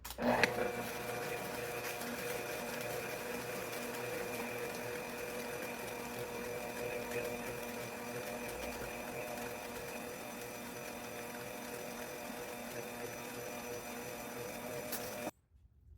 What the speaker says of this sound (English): we're going to cream the butter and the sugar